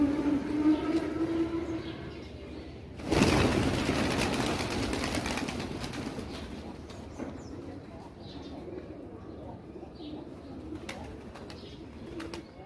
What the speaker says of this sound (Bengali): খুব সুন্দর একটি দেশি কবুতরের খামার। দেখুন রং বেরঙের কবুতর সেখানে সকালবেলা খাওয়ার জন্য সবাই প্রস্তুতি নিয়ে যাচ্ছে